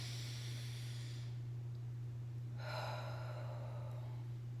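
A slow, deep inhale drawn through the nose during a guided breathing practice, close and airy, followed by a pause and a second breathy rush, over a steady low hum with no talking.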